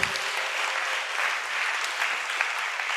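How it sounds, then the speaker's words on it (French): A church congregation applauds its choir, a continuous wash of clapping from many hands at moderate distance, even and unbroken from start to finish. "Acclame la chorale très fort."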